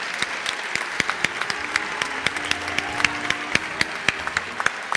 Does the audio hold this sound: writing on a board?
no